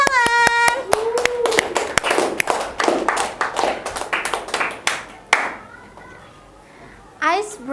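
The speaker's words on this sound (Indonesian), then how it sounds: "Semangat dong semuanya, beri tepuk tangan." Students in a classroom clap hands during an ice-breaking activity, starting with a few sharp separate claps that build into a ragged run of clapping before fading, with a voice at the start and end.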